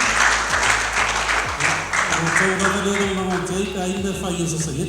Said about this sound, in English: a big round of applause for them as well, and volunteers